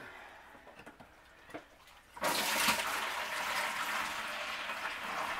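Water rushing out of a portable washing machine's drain, starting abruptly after a few quiet clicks and handling sounds, then a steady close gushing flow.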